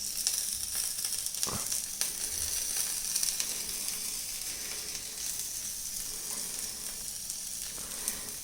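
Pan pizza dough fries in hot oil in a pan, a steady close hiss of sizzling that runs throughout with a few small pops and no talking.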